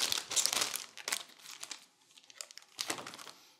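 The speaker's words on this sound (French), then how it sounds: "j'ai une pochette plastique ici" Crinkling plastic pouch holding a paintbrush kit, handled outdoors in loud crackling bursts with pauses between, close to the mic and alone without talk.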